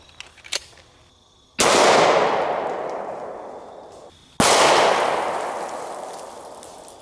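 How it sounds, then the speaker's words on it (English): Two loud .45 ACP pistol shots from a Springfield 1911 fired at a 380-pound Atlas stone, each a sharp crack followed by a long fading ring, a few seconds apart, with faint clicks before the first. "now let's hit it with a 45 ACP"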